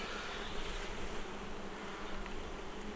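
Honeybees drone steadily around an open beehive during a weekly inspection, a dense, continuous buzz close by with no voices over it.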